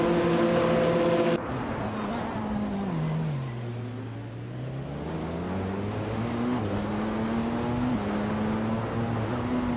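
A 2011 Oreca 03R prototype race car in a racing video game, its engine note dropping after a gear change, then rising steadily through upshifts as it drives on, loud and continuous with no talk.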